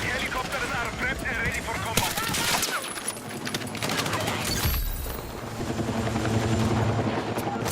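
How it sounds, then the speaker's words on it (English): Attack helicopter in the Battlefield 6 video game, its rotor roar mixed with dense bursts of machine-gun fire and heavy combat noise, loud and continuous throughout. "Attack helicopters are prepped and ready for combat."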